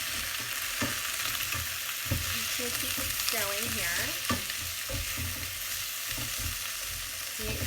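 Fennel browns in a hot pan and is turned with tongs, giving a steady sizzle broken by clinks and scrapes of metal on the pan, while someone talks over it close by.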